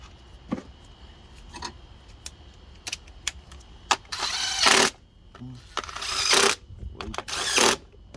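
Short metallic ratcheting bursts from tightening the coil pack bolts on an Infiniti Q50 3.7 engine's valve cover, in several separate runs with faint clicks and taps between them.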